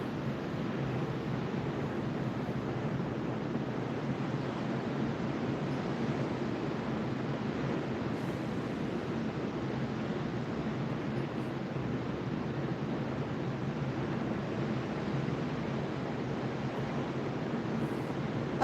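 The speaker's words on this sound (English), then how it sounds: "Hopefully you guys can hear me okay with this ocean noise in the background" Ocean waves roll in the background at a seaside spot, a broad, constant wash of surf noise with soft wind, steady and unbroken, without any talking.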